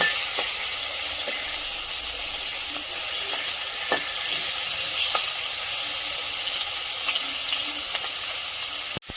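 Fish frying in oil gives a steady, broad sizzle that carries through the whole stretch, with a few faint crackles and a soft clatter near the end, and no talk.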